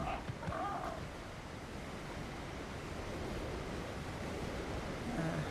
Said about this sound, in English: Right up against the waterfall.